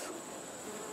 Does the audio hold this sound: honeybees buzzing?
yes